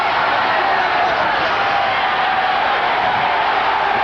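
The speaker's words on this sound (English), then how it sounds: "Crowd urging Holmes on as we approach a minute left in the bout." A boxing arena crowd roars steadily for Larry Holmes late in his bout with Lucien Rodriguez, a dense, continuous wash of cheering with no breaks, loud and close throughout.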